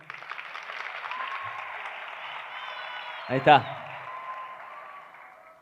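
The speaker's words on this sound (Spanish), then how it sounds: "Fuerte aplauso." Audience applause at a summer church camp gathering, moderate steady clapping throughout, with a brief spoken phrase partway through.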